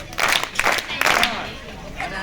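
An audience at a Swaminarayan religious gathering claps in three rhythmic bursts, with crowd murmur and talk between the claps.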